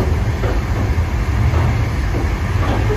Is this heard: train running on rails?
yes